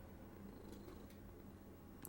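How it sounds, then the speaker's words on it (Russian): A cat purrs in Hogwarts Legacy, a soft, steady, low rumble that is faint and continuous, with no voices. "Кот."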